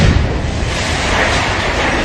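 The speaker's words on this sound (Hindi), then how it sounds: "इस तरह घर को उड़ाने के बाद जोरदार धमाका हुआ" A house blown up in a deliberate demolition blast, heard as a loud, sustained roaring rumble with a thunderous low boom at the start, filling the whole stretch without any voices.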